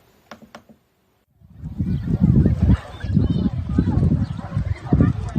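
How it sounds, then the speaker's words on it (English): Canada geese at Horseshoe Lake give a few short honks, then a stretch of louder, rougher low sound follows on a grey, breezy day. "There's Canada geese doing their luncheon, early luncheon."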